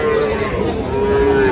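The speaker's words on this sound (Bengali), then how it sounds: "ছোট ছোট বাছুর," A young Sahiwal bull calf at a cattle market in Dinajpur, Bangladesh, gives one loud, close, drawn-out moo that lasts the whole moment.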